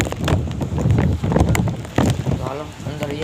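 Strong gusting wind during a rainstorm buffets the microphone with loud, rough roaring bursts throughout, and a voice speaks briefly near the end.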